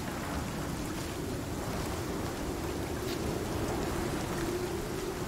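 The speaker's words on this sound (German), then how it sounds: "Mit die leichten Regenschauer nach draußen" Light rain showers fall in the video game Icarus, a soft, continuous wash of hiss and low rumble at faint, even level with no talking.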